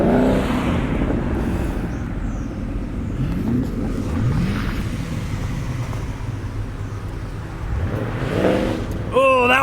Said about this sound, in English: Look, it's a Shelby.